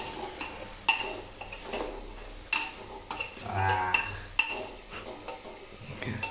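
Food is stirred in a frying pan with a little oil over full heat: repeated metallic clinks and scrapes of a utensil against the pan, with a faint sizzle underneath and no voices.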